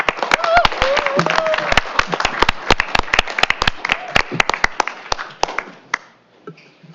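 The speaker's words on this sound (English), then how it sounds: "let's give these award winners another applause." Scattered applause at a school district board meeting honoring student award winners, sharp individual claps in an irregular rhythm from a small crowd, with people talking over it before the clapping thins out near the end.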